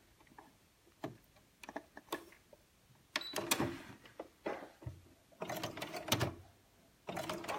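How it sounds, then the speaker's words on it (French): Domestic sewing machine stitching wax print fabric for a turban headband, the needle running in short quiet bursts with pauses between, close up; the motor sounds slightly strained. "vous voyez que ma machine à coudre commence déjà un peu à avoir du mal à coudre"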